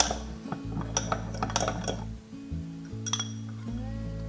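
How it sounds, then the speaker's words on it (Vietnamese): A utensil stirring tapioca starch into water in a small bowl gives light, irregular clinks against the container over a steady low background hum. "Khuấy để bột năng hòa tan."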